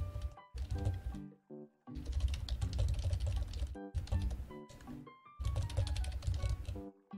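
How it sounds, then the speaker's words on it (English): Rapid bursts of typing on a computer keyboard, dense clattering keystrokes in several runs separated by short pauses, close and fairly quiet, with no talking. "let's type something out about this"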